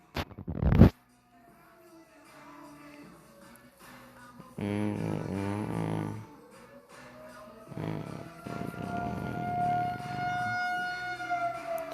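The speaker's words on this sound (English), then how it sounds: "They're always testing out sirens." A civil defense siren on a routine weekly test wails as a long, slowly sliding tone that rises and falls at a moderate distance, beneath ongoing background sounds and bursts of nearby noise.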